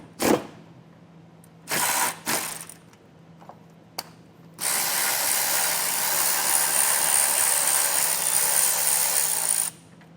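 A hand ratchet working a 10mm nut off a ground stud on a 2025 Chrysler: a few short bursts of rapid clicking, a single tick, then a long, steady, close ratcheting run.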